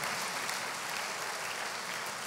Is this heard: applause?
yes